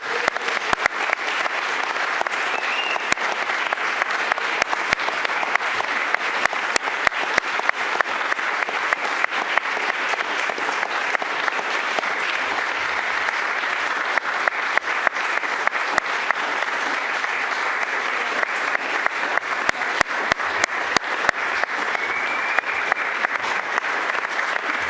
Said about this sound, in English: We'll just let the applause die down.